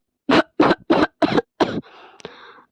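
A person coughs five times in a quick rhythmic series, close and dry, followed by a short rustle and a brief click.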